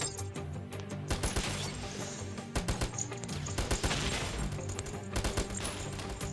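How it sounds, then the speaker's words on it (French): Video game combat with a rocket launcher firing amid bursts of rapid gunfire and explosive cracks, dense clustered impacts repeating throughout, moderately quiet overall with no speech. "Petit tir de lance-roquette."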